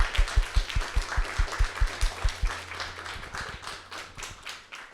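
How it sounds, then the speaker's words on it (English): An audience claps for a panel of speakers at a discussion event. Close, strong claps come in a steady rhythm at first, then break into looser, scattered clapping. "can I have another round of applause for my 6 wonderful speakers?"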